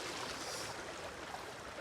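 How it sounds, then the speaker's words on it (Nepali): A mountain stream flows steadily nearby at a riverside picnic spot in Nepal, a continuous broadband rush of water with no pauses and no talk. "खोलाको साउन्ड आइरहेको"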